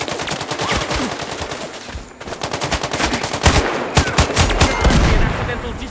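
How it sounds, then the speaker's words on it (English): Gunfire in Sniper Ghost Warrior Contracts 2: sustained rapid automatic bursts and individual shots, loud and close, rattling almost continuously with brief gaps. "Someone's shooting us!"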